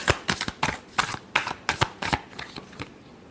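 Tarot cards shuffled by hand in a riffle-like run of about ten quick, crisp bursts that trail off after roughly three seconds, close and clear, with no voices.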